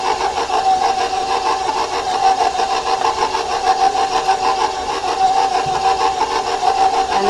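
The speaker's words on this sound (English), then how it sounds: "we're never higher than 2 on a KitchenAid mixer, so it's on low." KitchenAid stand mixer on low speed blending chocolate chip cookie dough cupcake batter, giving a steady, even motor hum with a faint rhythmic churn that runs unbroken through the whole stretch, with no voices.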